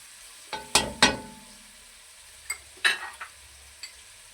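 Garlic fries in a pan for dhaba-style chicken handi, heard as a few sharp, close pops and clinks spaced irregularly over a quiet background, with no talking.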